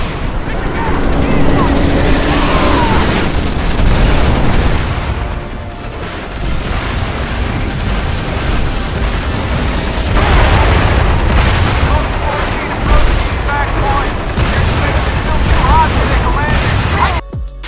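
Gunfire and explosions from a video game trailer, with dense rapid shots and booming blasts running continuously and loudly, under a frantic shouting voice over the combat.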